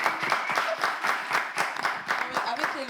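Audience applause at a live French comedy-style show, steady dense clapping filling the room, with some voices and cheers mixed in under it.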